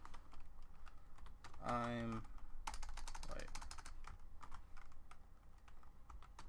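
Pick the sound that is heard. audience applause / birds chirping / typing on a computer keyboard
typing on a computer keyboard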